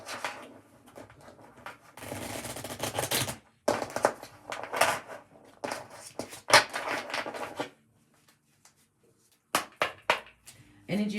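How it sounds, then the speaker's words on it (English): A deck of tarot cards is shuffled in several quick bursts of riffling and flicking, close by, with short pauses between them. "Going to give it another shuffle."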